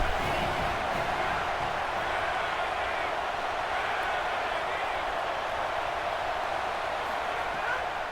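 Stadium crowd roaring at a college football game, Florida State at Alabama: a steady, dense wash of cheering and noise that holds at the same loudness throughout, with no pause or break.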